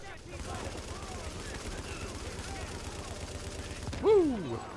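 Gunfire rattles steadily through a firefight in The Division video game, a dense continuous crackle of shots at a distance. Near the end a louder swooping tone sweeps downward over the noise.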